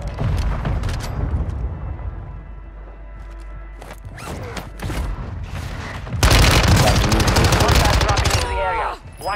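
Rapid automatic gunfire and bursts of shooting in a military video game battle, loud and close, with heavier bursts toward the end and brief voices mixed in.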